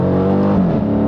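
A 2016 Dodge Challenger R/T Scat Pack V8 revs loudly and steadily up close, its exhaust giving a deep, rumbling bark through the whole moment.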